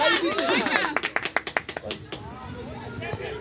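At a youth football match, a voice speaks, then a quick run of about ten rhythmic hand claps follows close by before fading into quieter background chatter.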